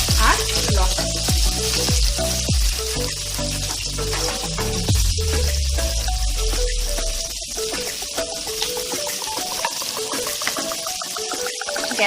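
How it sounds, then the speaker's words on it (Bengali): Chopped onion and green chili land in hot oil for egg-soya chowmein, setting off a loud close sizzle with a series of thuds and clatters as they drop in, then a steady frying hiss. "এবারে আমরা এর সাথে অ্যাড করব আমাদের পেঁয়াজ কুচি আর লঙ্কা কুচি।"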